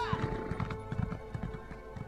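Steady clip-clop of horse hooves at a trotting rhythm in The Elder Scrolls Online, with a faint musical tone and background noise underneath.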